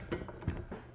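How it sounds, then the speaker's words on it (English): A 9/16 wrench socket runs a grade 8 nylock nut snug on a Jeep hardtop removal system, giving a few quick, quiet ratcheting clicks close by. "We're going to take our 9/16 wrench"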